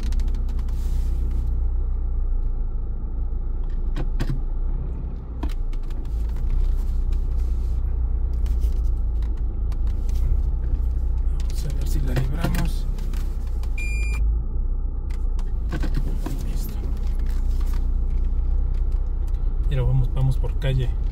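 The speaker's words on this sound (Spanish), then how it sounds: "Viene un carro, vamos a ver qué pasa" A car drives past on a small-town street in Chavinda, its steady engine rumble and tire noise rising and fading, with brief clatters and a voice talking over it.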